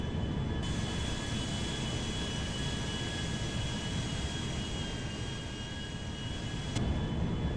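An A320 airliner on final approach in GTA 5 produces a steady broadband engine roar with faint high whine tones, continuous and moderately loud throughout.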